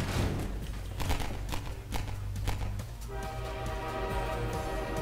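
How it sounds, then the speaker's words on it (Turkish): A train in Half-Life 2 rumbles past with heavy low-frequency clatter and rhythmic wheel knocks, joined midway by sustained tonal horn-like notes, loud and continuous throughout. "Tren mi la o hakikaten?"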